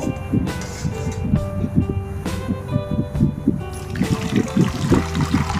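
Water trickling and draining in a steady dribble while flattened rice (poha) is rinsed, with a few clinks and bumps of the container. No speech.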